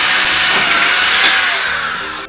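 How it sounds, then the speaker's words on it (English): A power drill bores a hole from the inside of a steel helmet dish, giving a loud, steady high whine for about two seconds before cutting off. "Drilling hole from the inside of a dish is way easier than the outside."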